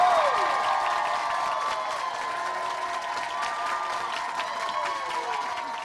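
A large crowd at a football event cheers and applauds loudly and continuously, a dense wash of clapping and shouting that fades slightly but holds throughout.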